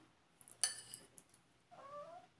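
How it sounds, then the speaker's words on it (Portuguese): A house cat meows faintly in a kitchen, a short mew near the end after a sharp clink of dishes, quiet with no talking. "Vocês viram o miado do gato?"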